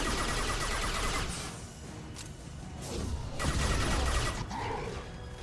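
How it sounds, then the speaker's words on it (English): Bursts of gunfire from Mass Effect 2 combat, rapid volleys and crashes layered over a busy, loud game soundscape, with no speech. "Alright, I just had to shoot him."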